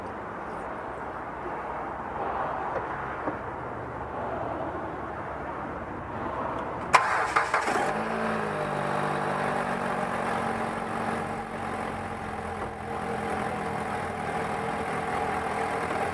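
A 2009 Dodge Avenger engine cranks and catches after a quiet stretch, then settles into a steady, slightly uneven idle that stays close and continuous to the end, with no one talking.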